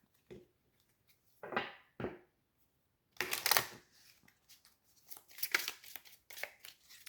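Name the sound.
shuffling tarot cards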